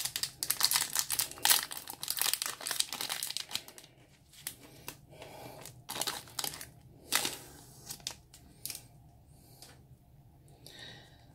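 Dragon Ball Super Union Force card booster packs being torn open and handled, with dense crinkling foil wrapper noise in bursts, loudest early and then sparser crackles and rustles.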